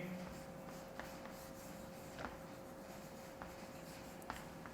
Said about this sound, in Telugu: నేను బోర్డు మీద రాస్తాను, ఒక్కసారి రాయండి.